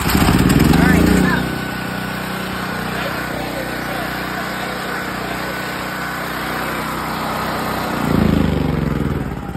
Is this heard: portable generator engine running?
yes